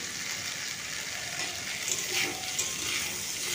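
Potatoes sizzle steadily in a pan with salt and turmeric for a vegetarian curry, a dense, even hiss with faint stirring.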